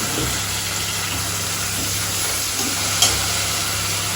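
Ginger garlic paste frying in a pan for a mutton curry, producing a continuous sizzle with a low background hum and a brief clatter near the end, no voices.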